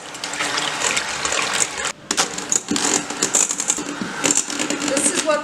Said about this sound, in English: next we're going to whisk the egg whites to soft peak